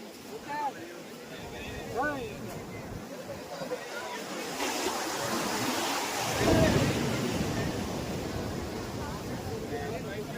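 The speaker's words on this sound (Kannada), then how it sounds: "ಹೇಗಿದೆ ಅಲೆಗಳ ಸದ್ದು" Ocean waves roll and break on a beach in a continuous, rushing surf that swells louder midway, with a person talking over it at first.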